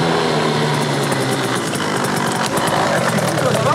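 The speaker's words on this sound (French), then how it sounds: "On essaye la M4 avec 1000 chevaux." A BMW M4 tuned to 1000 horsepower runs loud and steady, a harsh roaring engine note that holds throughout with a brief dip near the end.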